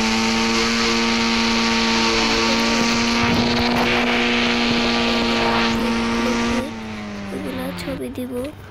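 A boat's motor drones steadily with strong harmonic hum, loud and close, then drops in pitch and level near the end while voices talk over it.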